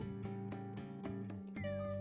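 A domestic cat meows, a brief clear call of a few quick pulses, close and alone, ending with a bright tonal note.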